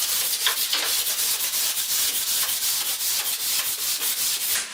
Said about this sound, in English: I'm going to take the flat sanding block and roll this shoulder over just ever so slightly